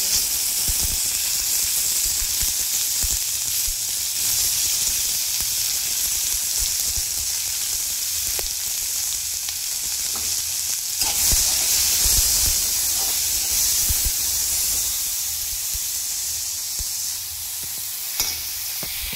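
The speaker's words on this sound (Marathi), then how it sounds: "हे लो ते मीडियम गॅसवर आपल्याला सगळं साहित्य भाजून घ्यायचं आहे।" Ingredients roast in a pan on medium gas flame with tomato added, giving a continuous moderate sizzle and hiss with occasional stirring clinks.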